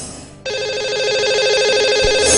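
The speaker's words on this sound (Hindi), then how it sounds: "और एक बार फिर से हम कॉल लगा रहे हैं हमारे आज के लकी कॉलर को" A telephone rings loudly and close as a radio show calls a lucky caller, a bright warbling electronic tone starting abruptly and holding steady to the end.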